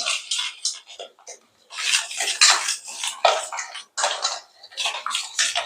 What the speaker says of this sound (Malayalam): ഈ ഇട്ട് വെച്ച് നന്നായിട്ടൊന്ന് ബീറ്റ് ചെയ്ത് കൊടുക്കാം